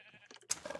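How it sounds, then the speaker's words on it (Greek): A Minecraft sheep on a simple in-game farm gives a short, close bleat near the end, after a few faint game tones, with no talking. "Έφτιαξα μια απλή φάρμα με sheep και γουρούνια"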